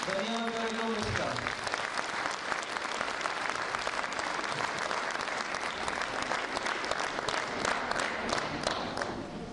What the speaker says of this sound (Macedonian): Сите би сакал да упатиме еден огромен аплауз